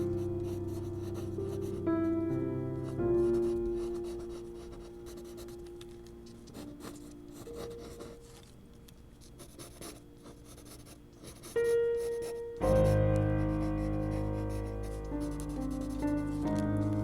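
Pencil strokes scratch across paper while sketching a figure for an action-figure armature, close and steady with repeated short strokes under soft background music.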